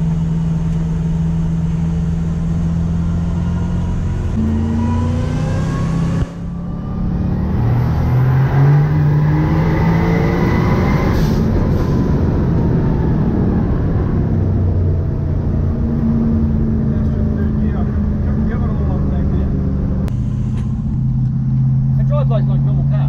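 Twin-turbo Toyota 1UZ-FE V8 in a Lancer making around 700 horsepower, a loud steady engine drone with rising revs and a gear change partway through, heard from inside the car with people talking over it.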